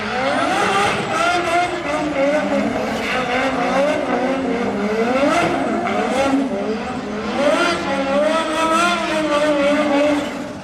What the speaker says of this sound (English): I think that car sounds awesome